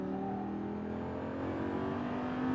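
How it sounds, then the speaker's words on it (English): An exotic sports car accelerates out of a turn on a race track, heard from inside as a steady, loud engine drone rising slightly in pitch and strength over a few seconds. "Accelerating out, use the track, full power."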